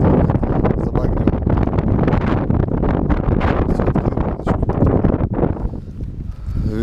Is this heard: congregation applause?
no